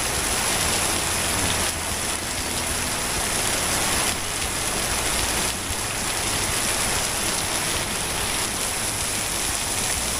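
Heavy rain pours onto a road on a stormy early morning, a dense, constant roar of drops close by that never lets up, with no voices.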